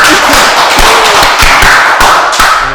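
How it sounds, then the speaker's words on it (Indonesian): Loud, dense applause in a room for a hospital, a rapid patter of many hands clapping together that fades slightly toward the end. "Tepuk tangan buat RSNU ya"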